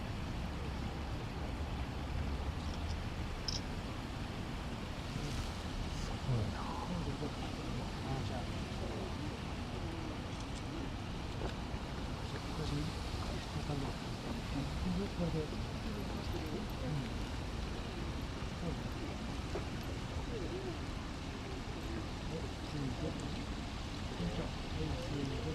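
A river flows steadily past blooming red and white plum trees at Jonangu shrine in Kyoto, a continuous broadband rush at moderate level with no breaks throughout.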